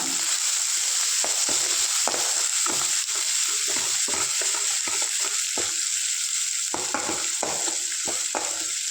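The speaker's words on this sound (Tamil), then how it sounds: "இப்போ நல்லா வதக்கிக்கோங்க" Okra being sautéed with mustard seeds and tomato in a pan for a dry poriyal, a steady high sizzle over which a spatula scrapes and taps in irregular strokes, close and continuous for several seconds, with no talking.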